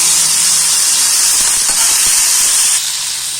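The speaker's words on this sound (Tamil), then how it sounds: "இதோட நம்ம தக்காளியும் போட்டு நல்லா வதக்கிக்கலாம்." Onions and tomatoes sizzle in hot oil in a pan while being sautéed for a hotel-style empty salna, a steady loud hiss running throughout and easing slightly near the end.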